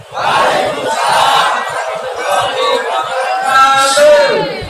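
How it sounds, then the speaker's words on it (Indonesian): A large crowd of football supporters at a stadium gathering in North Jakarta cheers and shouts loudly and continuously, with applause blended into the roar, sustained at high volume throughout. "Kita beri tepuk tangan untuk semua"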